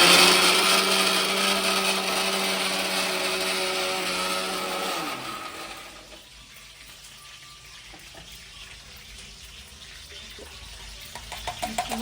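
A kitchen mixer grinder purees onion into paste for a brinjal masala curry, giving a loud steady motor whine for about five seconds before it winds down into quieter clatter and faint scraping.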